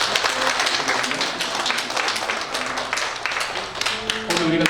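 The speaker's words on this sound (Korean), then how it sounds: "자리에 앉으실 때 우리 감사의 박수." Congregation applauding in thanks during a Sunday church service, a dense wash of steady clapping that fills the room, with some talk and low tones running underneath.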